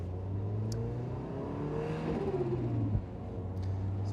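A turbocharged Mazda NC climbing a series of hairpins pulls hard through the gears, the engine rising in pitch, dropping on shifts and a brief mechanical clunk near the end, with faint tire and wind noise behind.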